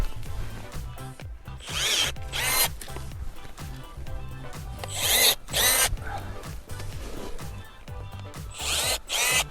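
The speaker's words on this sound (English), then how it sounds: "Now we're gonna go with the Milwaukee pruner." Milwaukee battery-powered pruner cutting fruit tree branches outdoors, with repeated whirring motor bursts about every few seconds over a steady low background rumble, fairly close.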